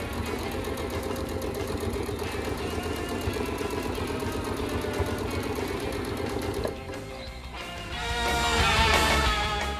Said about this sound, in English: You will then sew around the entire top of the bag using a 3/8 inch seam.